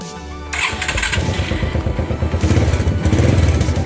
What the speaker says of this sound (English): I had started the bike. So I'll start once again.